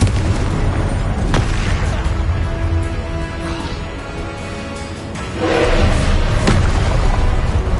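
Booming blasts of the Confringo spell in a Harry Potter game, a few heavy thuds and explosions spaced several seconds apart, loud and near amid a continuous low game rumble.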